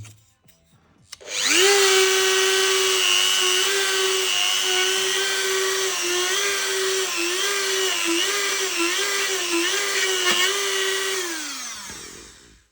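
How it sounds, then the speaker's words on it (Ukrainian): An electric drill with a 2 mm bit whirs steadily at high speed for about ten seconds, its pitch dipping briefly several times as it bites into material, then spins down. "І спробуємо щось просверлити."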